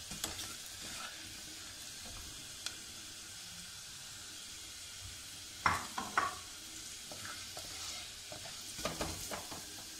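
Turmeric and red chilli powder fry in hot oil for a stuffed chana dal paratha, with a soft continuous sizzle broken by a few scraping stirs of a spoon against the pan.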